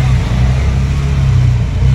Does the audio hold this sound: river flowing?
no